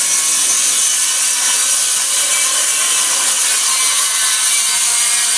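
A saw rips a 4-by-8 masonite sheet in half lengthwise, a steady, loud, continuous bright rasp with no pauses and no voices.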